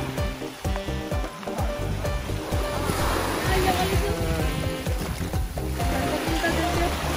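Sea waves meeting and washing over a sandbar off Great Santa Cruz Island in Zamboanga, a steady, close rush and fizz of surf with people talking over it.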